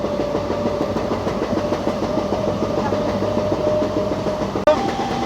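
A DMU diesel train runs on the Jalandhar–Ambala line, with a steady rumble and engine drone broken by rhythmic wheel clatter, loud and continuous, ending in a brief sharp clunk.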